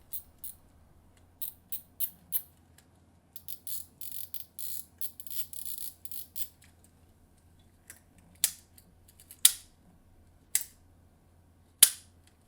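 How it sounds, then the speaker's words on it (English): Drag on a twelve-year-old Daiwa T3 SV baitcasting fishing reel clicks in quick ratcheting bursts, then in sparser, sharper single clicks, crisp and close in an otherwise quiet room. "Give you a sound, listen to that drag."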